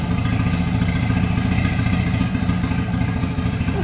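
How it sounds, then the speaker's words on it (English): A Mercury 9.9 HP outboard motor idles lean at low RPM after a carburetor rebuild, a loud, close, continuous chugging rumble with rough clattering pulses. "We want the motor to run at low RPM and with less fuel"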